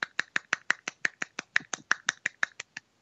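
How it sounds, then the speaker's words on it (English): A one-handed clap made by snapping the fingers repeats about seventeen times in a quick, steady rhythm, each snap sharp, crisp and close against a quiet background. "so that's the sound of one hand clapping"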